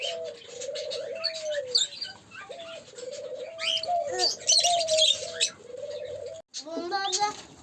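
Laughing doves coo repeatedly in soft, rhythmic phrases, close by, while other small birds chirp and twitter around them.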